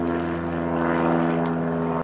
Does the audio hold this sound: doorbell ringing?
no